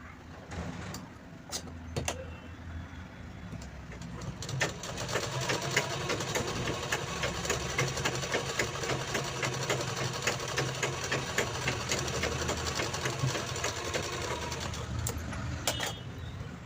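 A sewing machine runs steadily, stitching a double stitch along a chain being attached to fabric, its fast rhythmic needle clatter continuous and close for most of the stretch after a few brief starts.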